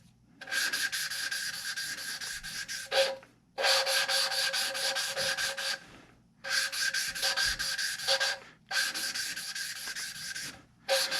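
A drill spins a lapping tool against engine valves coated in grinding compound, working on cylinder heads for a V10 swap into a 1981 Dodge Ram: four gritty, whirring bursts of a few seconds each, broken by brief pauses.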